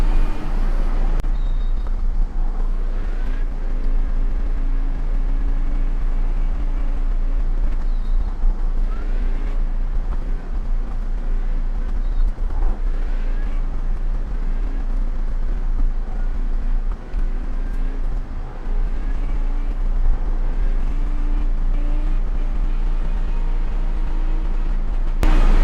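Race car engines droning steadily through a pace lap at Sebring in a racing game, a continuous loud engine roar with low rumble that holds without a break.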